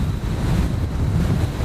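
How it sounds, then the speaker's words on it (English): Strong wind buffets the microphone on the White Cliffs above the sea, with waves surging below in a rough, continuous roar, loud and close. "It's really windy"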